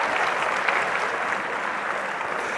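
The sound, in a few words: audience applause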